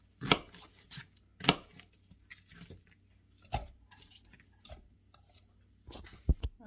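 A food processor chops chunks of pork, giving a string of quiet, irregular chopping knocks and clatters with short gaps in between, and a few sharper hits near the end.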